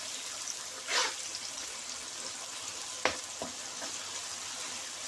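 Onions and tomatoes cook in a pan for chicken and potato gravy, giving a faint, steady sizzle with a soft bubbling trickle and a few brief scrapes or knocks as they are stirred.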